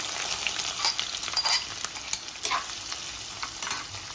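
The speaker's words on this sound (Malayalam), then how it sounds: "ചൂടാവുമ്പോൾ നമുക്ക് ഉള്ളി ചേർക്കാം കേട്ടോ" Onions fry in hot oil for a chicken curry, a loud close sizzle with crackling pops and scraping stirs, and no voices.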